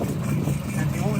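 A UTV engine turning over and running with a rough, steady rumble, close by, with people talking over it.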